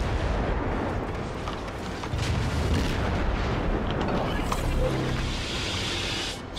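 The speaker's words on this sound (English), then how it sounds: "Here comes the return fire." Incoming naval shells in World of Warships crash and boom continuously around a ship, a dense, loud rumble of impacts and explosions with no clear pauses.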